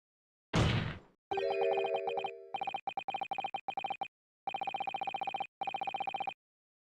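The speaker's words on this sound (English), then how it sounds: "Someone texted me." A phone alert of the sort a text message brings: a short burst, then a steady tone and a run of quick repeated electronic beeps in clusters, clear and close, with no talk.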